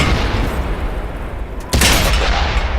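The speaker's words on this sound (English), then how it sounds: "You've always got to take a shot of artillery." Artillery fire in a tank video game, heard as a heavy rumbling roar that swells into a sudden loud boom near the end.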